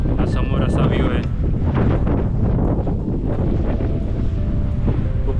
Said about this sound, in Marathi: मस्त हवा सुटली आणि थंड वारा लागतं